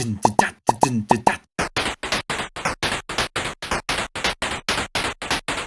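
Bright, buzzy square-wave chiptune notes bounce in a lilting long-short swing pattern, a clipped electronic arrangement of Splatoon music of evenly spaced staccato tones.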